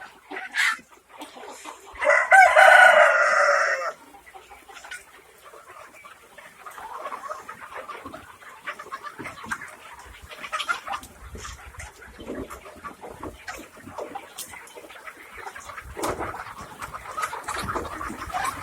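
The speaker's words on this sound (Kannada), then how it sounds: "ಮೂರು ತಿಂಗಳು ಕೋಳಿ ಇದು" A rooster crows loudly near the start, followed by scattered soft clucking from three-month-old native chickens on a Karnataka farm over a quiet, open background.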